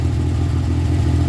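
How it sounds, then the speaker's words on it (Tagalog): A Suzuki Multicab engine idles just after starting, a steady, low, even rumble that stays constant and close with no revving. "So habang nag-idle tayo ng engine, papagalap naman natin kung hanggang saan ang palo nito."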